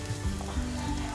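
Hot oil sizzles in a new clay pot as garlic and ginger go in, a close, steady crackling fry filling the short moment without speech.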